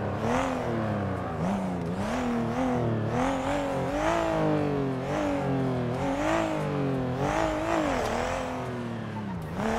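A car engine in GTA V roleplay revs loudly and continuously during a race, its pitch climbing and dropping repeatedly through gear changes.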